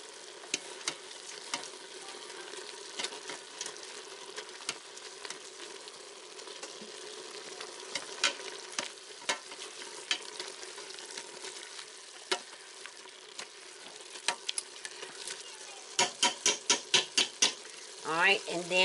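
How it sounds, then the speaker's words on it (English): Salted, peppered stew meat is stirred in an Instant Pot, with steady scraping and clicking under a soft sizzle and a quick run of sharper clacks near the end; no one talks. "I'm going to put all this in here, and I'm going to stir it around"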